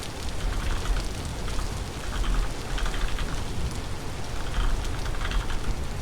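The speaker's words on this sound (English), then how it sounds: "Why the fuck is it still raining?" Steady rainfall from the video game Vintage Story patters continuously at a moderate level, a dense even hiss with scattered droplet taps and no talking.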